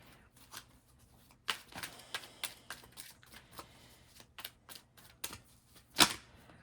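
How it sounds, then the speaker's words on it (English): Soft, crisp shuffling of oracle cards, a series of quick riffling flicks and taps, close and quiet, ending with one louder snap. "while I was shuffling the cards"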